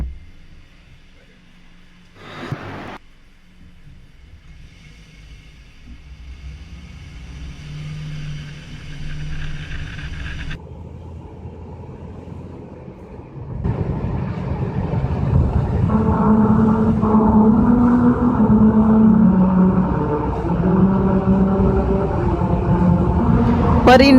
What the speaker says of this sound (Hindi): अगर आप सही स्पीड से गाड़ी चलाते हो तो आपको म्यूजिक के धुन का आवाज़ सुनाई देगा